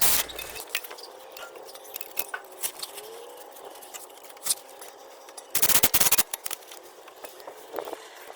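An air impact wrench fitted with a couple of extensions undoes drive-shaft bolts on a Porsche 911 996 that sat for seven years after engine failure, firing in short rattling bursts with a louder, longer burst near the end, no talk.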